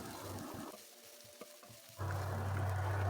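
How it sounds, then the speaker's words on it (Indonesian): Carrots and dried tiny shrimp stir-fry in a pan, a steady close sizzle that dips quieter mid-way with a few scrape and stir clicks, then surges back louder. "Kita tumis sampai udang rebonnya wangi ya, mateng."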